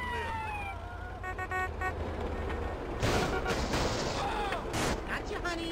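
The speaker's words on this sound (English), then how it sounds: "Officer, they're shooting at me." Gunfire in Grand Theft Auto Definitive, sharp bursts of shots over game noise and revving traffic, getting denser and louder in the second half.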